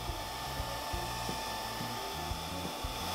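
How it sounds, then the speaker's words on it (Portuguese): A hair dryer blows steadily on a handmade gift-packaging craft piece, giving a constant close whir and hiss with faint knocks and rubbing underneath. "Nesse caso, eu posso acelerar com o secador."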